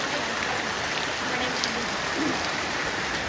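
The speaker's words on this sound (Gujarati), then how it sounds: "वरसाद चालू જ છે હજુ જોરદાર યાર" Heavy rain pours down in a steady, dense hiss that stays even and close throughout, with no voices standing out.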